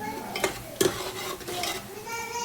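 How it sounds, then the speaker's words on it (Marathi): Coriander leaves and ginger-garlic paste sautéing in oil for a village-style chicken curry, a light sizzle broken by a few sharp spoon-on-pan scrapes and clinks, close by with no talk. "थोडीशी कोथिंबीर आणि लसूण अद्रकची पेस्ट आहे ती आपण परतून घ्यायची आहे."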